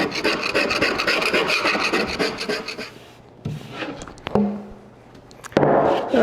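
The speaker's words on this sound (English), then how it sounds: "I'm going to scrape off all the old." Scraping worn old padding off a wooden chair seat during reupholstery, a rapid, loud rasping scrape repeated for about three seconds, then a few separate sharp scrapes and knocks at close range.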